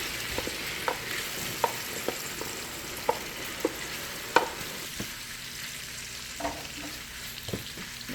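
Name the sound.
shrimp being stirred and sautéed in a pan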